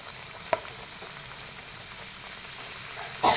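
Coconut pitha, an Assamese rice cake, fries in oil with a soft steady sizzle, one sharp pop early on and a louder crackle burst near the end, no voices.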